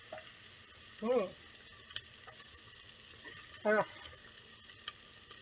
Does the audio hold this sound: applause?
no